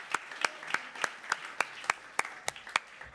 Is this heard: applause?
yes